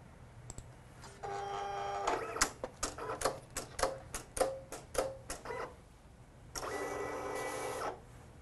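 An electronic craft cutting machine cuts material for a flower wreath, starting with a steady motor whir, then a run of quick clicks and short mechanical whirs, and ending with a longer whirring pass, heard close and without talk.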